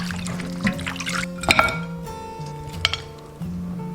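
Blanched lamb is scooped from a pot and rinsed in water, giving close liquid splashes, drips and light clinks of a utensil against cookware over a steady low hum.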